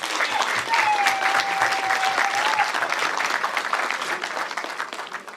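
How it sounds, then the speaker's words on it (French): An audience applauds at a wake for a mother held in Charleroi, steady clapping throughout with a shrill whistle or cry rising over it early on. "Ceci mérite des applaudissements."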